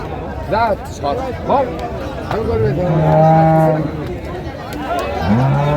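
Dairy cows and calves moo at a busy rural cattle market in Dinajpur, Bangladesh, with several drawn-out lowing calls over a background of crowd chatter and people talking nearby.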